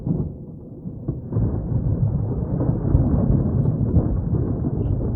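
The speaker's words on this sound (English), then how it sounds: "that thunder's in the game?" Deep, continuous rumbling thunder rolls through a dark setting in the horror game Darkness Within, a heavy low roar that swells and persists steadily without any voices.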